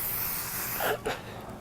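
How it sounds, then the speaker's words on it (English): A short hiss of aerosol hairspray, two brief bursts close by over steady background noise. "I'm going to give it an overall spray."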